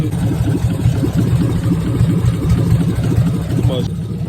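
Loud, rough car engine idling with no exhaust fitted, a raw, unmuffled rumble, continuous throughout, close to the listener.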